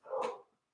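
A single short dog bark, close and fairly faint, ending in a brief tail with quiet surroundings.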